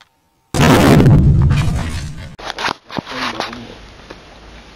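A hydrogen-filled condom bursts with a sudden loud bang that fades over about two seconds, followed by scattered rustles, thumps and movement close by.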